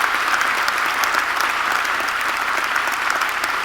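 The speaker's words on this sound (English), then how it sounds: "I'm going to ask you to stop clapping" Steady, dense applause from a large lecture audience at an annual pluralism lecture, continuous clapping filling the room at even loudness with no talk over it.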